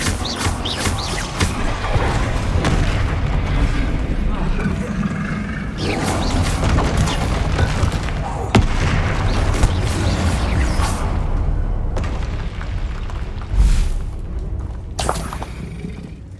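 Bombarda blasting spell explosions in Hogwarts Legacy, loud booming blasts with rumbling debris and a continuous heavy low roar, separate impacts landing every few seconds, no talking.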